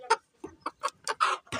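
A farm hen that has just laid an egg gives a series of short, sharp clucks in quick irregular bursts, close and clear.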